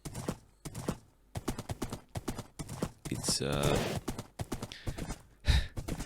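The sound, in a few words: horse hoofbeats while riding a horse in Minecraft video game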